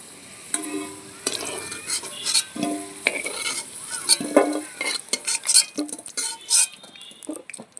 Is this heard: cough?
no